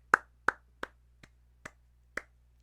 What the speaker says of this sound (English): You're literally the only person clapping